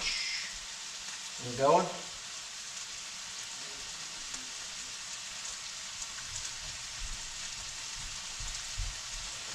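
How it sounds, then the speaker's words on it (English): Tortillas frying on a flat pan give a steady, close sizzle that holds throughout, with one short spoken phrase near the start. "We get those tortillas over here on the flat pan."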